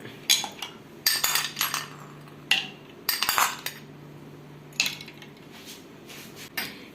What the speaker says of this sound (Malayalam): ഇതിലേക്ക് നമുക്കിനി രണ്ട് മൂന്ന് ഐസും കൂടെ ഇട്ട് കൊടുക്കാം